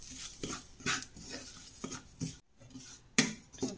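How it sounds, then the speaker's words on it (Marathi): Raisins and dry fruits for Holi gujiya filling are roasted and stirred in a pan. The result is quiet, irregular scraping and clinking of a spoon against metal with a faint sizzle beneath, and no voices. "थोडेसे किसमिस सुद्धा टाकते आणि परतून घेते।"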